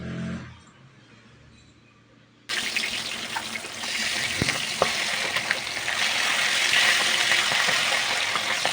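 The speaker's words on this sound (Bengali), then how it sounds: "কড়াইতে তেল দিয়ে তেলটিকে ভালো করে গরম করে আমি একে একে মাছগুলো ভেজে নেব" Katla fish pieces frying in hot oil in a wok: after a quiet start with a few small clatters, a loud continuous sizzle bursts in and grows steadily, with occasional pops and spatters.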